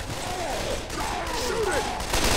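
Rapid gunfire from a Left 4 Dead 2 match on the hardest difficulty, a dense burst of overlapping shots over about two seconds, close and loud amid game noise.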